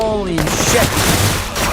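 Video game gunfire rattles in a dense, loud burst of rapid shots with bullets cracking past, close and continuous for under two seconds.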